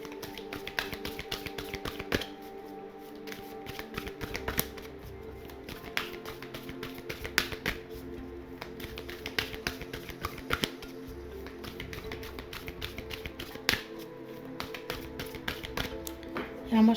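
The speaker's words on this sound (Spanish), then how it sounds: "vamos a barajar este oráculo" Oracle cards being shuffled by hand during a tarot reading, a steady run of soft, close riffling taps and slaps that continues without pause through the whole stretch.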